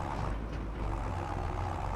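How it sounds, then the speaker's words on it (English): A 200-horsepower tractor engine in Farming Simulator 25 runs with a steady, low droning rumble that holds even and continuous throughout. "This is our new little tractor."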